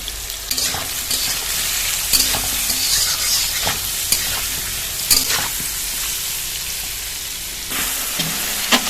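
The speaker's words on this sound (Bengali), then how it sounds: "মশলাটা আবারও ভালো মতো তেল ছাড়া পর্যন্ত কষিয়ে নেব" Spice paste with raw mango fries in hot oil in a village-style kitchen while making a tilapia curry, a continuous loud sizzle broken by repeated scraping stirs of a utensil against the pan.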